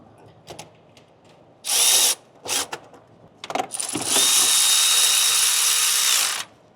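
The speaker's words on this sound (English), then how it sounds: "Bolt in, cinching it down." Power tool driving and tightening an A/C compressor bolt on a Ford F450 with the 6.7 engine, heard as short close bursts of whirring and ratcheting, then one longer sustained run.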